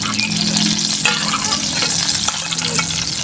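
Chili and shallots frying in a pan with oil, a steady loud sizzle and crackle with light stirring scrapes throughout, and no voices.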